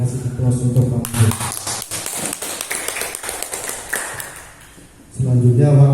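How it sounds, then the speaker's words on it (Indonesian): Sustained applause from an audience at a school gathering, a dense run of clapping lasting several seconds after a short burst of speech, then fading as a voice resumes. "Kita kasih aplaus untuk Pak Mahfud"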